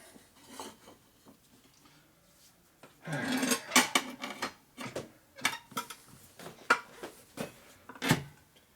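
A rear tire on a 1990s Harley-Davidson Dyna FXD seats onto its rim during a tire installation, a burst of rubbing, squeaking and sharp clicking pops, close and fairly quiet, with no talk.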